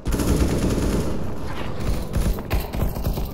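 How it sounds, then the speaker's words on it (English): Dense, loud rapid gunfire in Counter-Strike: Global Offensive team deathmatch on the Mirage map, automatic bursts overlapping continuously with sharp shot transients throughout. "Very good shooting."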